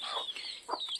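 A brooding hen with her newly hatched chicks clucks near at hand in a brief burst, a few soft calls followed by a sharp click at the end.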